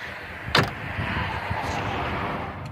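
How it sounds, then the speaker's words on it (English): Rear liftgate glass of a 2010 Ford Escape XLT opening, a short latch click and release followed by a soft movement sound, heard close against quiet outdoor background noise. "you can see you can open the glass part"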